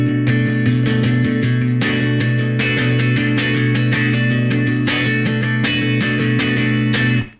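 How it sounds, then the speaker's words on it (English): Guitar chords strummed with a wide, tight funk strumming motion, a dense rhythmic run of bright strums ringing steadily and close for about seven seconds before stopping. "you surely hear that the chord sounds tighter when the movement is getting wider"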